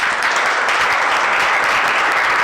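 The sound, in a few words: audience applause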